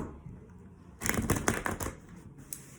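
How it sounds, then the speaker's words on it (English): Tarot cards being shuffled by hand in a quick riffling burst of papery flutters and taps, fairly close and alone, after a second of quiet room tone. "So I'm going to start shuffling,"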